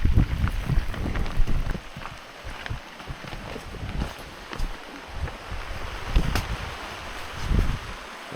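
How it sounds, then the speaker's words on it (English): Rain falls outdoors at a rocky wooded spot in Michigan's Upper Peninsula, a dense steady patter with gusty rumbling wind buffeting the microphone, close and continuous. "Freaking rain."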